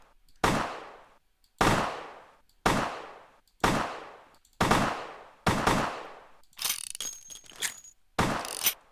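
Gunfire from a weak gun in the video game Vampire: Bloodlines: six loud, evenly spaced single shots about a second apart, each with a sharp crack and ringing tail, then a clattering burst and one more shot.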